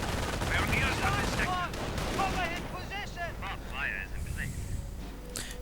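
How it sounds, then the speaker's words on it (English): MG42 machine gun fire in a World War II strategy video game, with dense rapid bursts of gunfire and distant explosions in a busy battle mix. Voices and chirping game sounds run underneath. "Let's quickly run into an MG42."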